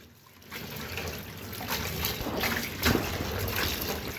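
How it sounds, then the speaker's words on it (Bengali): Leafy greens are rinsed in water in a home kitchen, giving a continuous splashing and trickling wash with a few louder sloshes, close by and with no one talking. "তো শাকটা পরিষ্কার করে ধুয়ে নিচ্ছি।"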